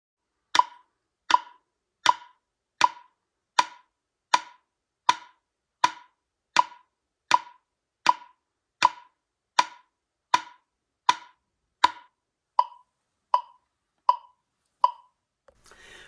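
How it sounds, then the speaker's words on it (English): Sharp taps played in a steady, even pulse alongside a metronome click, about twenty evenly spaced hits close and clear, fading slightly toward the end, with no talking. "the sound of your tapping must be at least close to the same volume and sound as your metronome"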